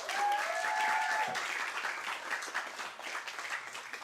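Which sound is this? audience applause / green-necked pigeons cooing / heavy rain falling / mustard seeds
audience applause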